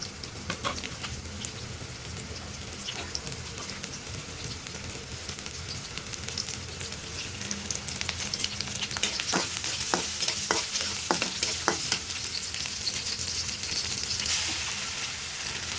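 Chopped onion frying in soybean oil in a wok, a steady sizzle under scattered stirring scrapes and clicks that grow denser toward the middle, with no talk.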